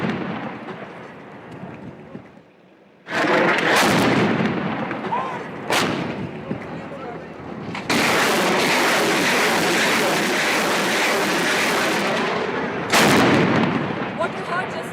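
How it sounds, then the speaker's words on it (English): Bofors artillery guns firing on Tiger Hill in Kargil: heavy, booming blasts that burst in suddenly and roll out into long rumbling echoes, several firings over a sustained, loud barrage. "What you heard just now were Boffa's guns directly firing right on top of Tiger Hills"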